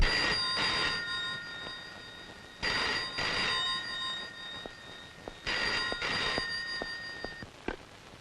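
An old-style telephone bell rings in a police station, four bursts of two trills each with pauses between, fairly close with light background noise.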